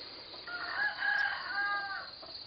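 A rooster crows once among chickens on a farm, a clear drawn-out call over a quiet outdoor background with no talking.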